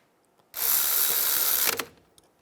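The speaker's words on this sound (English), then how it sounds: "I'm going to use some pliers to hold the pins and tighten these down." A ratchet tightens the brake caliper bolts on a 2004-2009 Toyota Prius during a front brake job, producing one continuous close, loud burst of rapid clicking that lasts just over a second and then stops abruptly.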